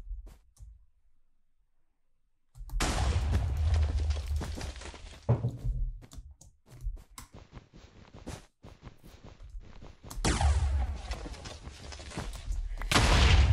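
Explosions in a Minecraft BedWars match, a series of loud, dense booming bursts after a quiet start, with a cluster of sharp cracks in the middle and another heavy blast run near the end.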